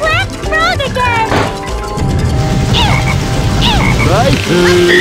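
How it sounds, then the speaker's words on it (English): Black frog in the Sonic Heroes Lost Jungle stage on GameCube, croaking amid busy game sound effects, music and character voice chatter, with several short croaks and crashes over a steady loud backdrop. "There's that black frog again!"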